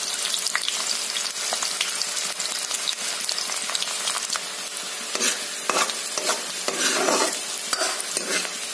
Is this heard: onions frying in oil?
yes